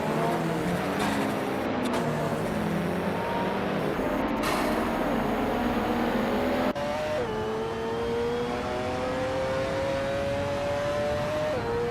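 A Chevrolet Corvette C6 race car in a racing video game, its engine droning and shifting pitch as it accelerates through gears, loud and continuous with no talk.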